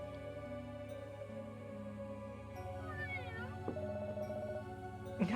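In a video game, a cat meows several times over steady background music and game tones, the cries rising to a sharper burst at the end.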